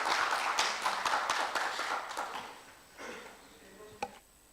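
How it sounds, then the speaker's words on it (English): An audience at a conference and AGM claps for a panelist in a dense, fairly close burst of applause that thins out and fades after a few seconds. "Please give her a big round of applause."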